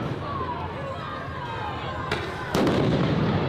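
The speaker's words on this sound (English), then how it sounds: "They're already deploying flashbangs." Flashbang grenades going off at a Los Angeles street protest on a highway as the National Guard arrives: two sharp, loud bangs in quick succession near the end, over steady crowd noise with voices talking.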